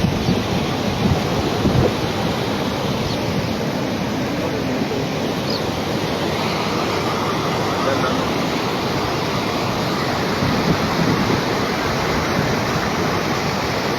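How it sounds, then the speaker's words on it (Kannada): A river rushes hard and fast with water released from Hidkal dam, making a loud, unbroken roar of churning flow. "ನೀರು ಬರ್ತಾ ಇದೆ ನೋಡ್ರಿ."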